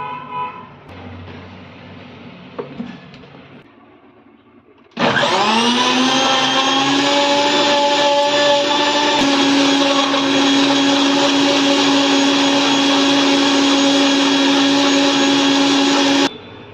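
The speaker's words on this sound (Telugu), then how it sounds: "ఇలా మిక్సీ జ్యూస్ చేసుకున్నాక" A kitchen mixer blends black grapes with water and sugar into juice, starting abruptly with a loud, steady high-pitched motor whine that holds for about eleven seconds, after quieter handling noises beforehand.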